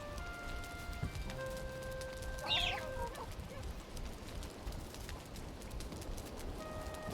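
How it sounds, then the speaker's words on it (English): A hen in the game Valheim gives a single faint, brief cluck amid quiet outdoor ambience and soft sustained musical tones. "Get out of the corner, hen."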